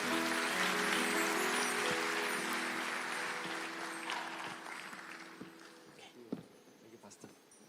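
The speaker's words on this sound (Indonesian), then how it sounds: "Kita berikan tepuk tangan." Church audience at a Sunday service applauding a guest pastor, a broad wash of clapping that starts full and gradually thins and fades out, with a few scattered claps and murmurs at the end.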